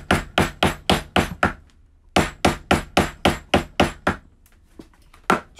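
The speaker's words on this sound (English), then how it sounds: "start hammering" Leather being hammered during a leathercraft session for kids: a close, loud series of sharp blows in quick regular runs, a pause, then another run and a few final scattered strikes.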